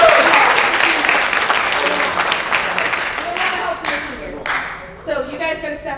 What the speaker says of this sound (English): Yeah, clap for that.